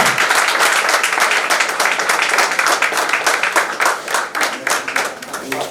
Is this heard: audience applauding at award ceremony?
yes